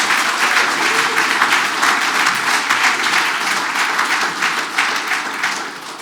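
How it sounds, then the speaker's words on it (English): Conference audience applauding a policy reform and industry panel in Slovenia, a dense, steady wash of many hands clapping throughout, loud and close, easing slightly toward the end. "So let's give our esteemed panel members a round of applause."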